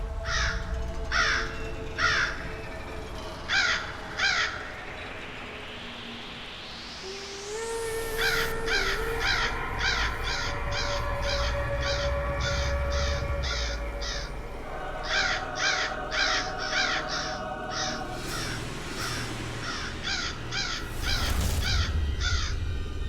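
Crows caw over and over in harsh, rhythmic bursts, several birds calling loud and close, with whooshing and other sound effects mixed in between.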